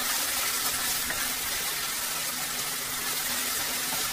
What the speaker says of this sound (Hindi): इसको अच्छे से मैं भून रही हूँ